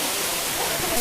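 A waterfall in Thailand, Ched Khot Waterfall, at its first level: a dense, constant hiss of cascading water, bright and close, filling the whole short moment without speech.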